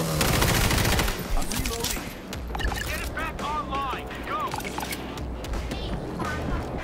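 Rapid gunfire mows down zombies in the video game World War Z, a loud burst of automatic shots at the start and then scattered shots and game noise under a person talking.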